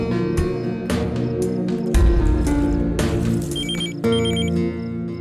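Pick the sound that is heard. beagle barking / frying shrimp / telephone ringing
telephone ringing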